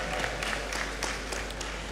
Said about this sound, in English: I think we all deserve a round of applause for that.